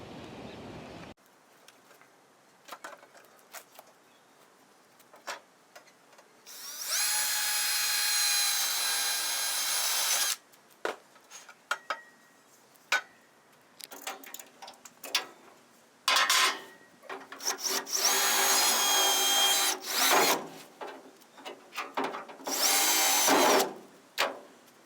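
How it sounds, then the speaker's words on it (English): Power drill boring holes through the side rails of a 1963 Chevy C10 truck bed with wood planks, several sustained whining bursts of a few seconds each separated by clinks and handling noises. "Everything's drilled out on both sides."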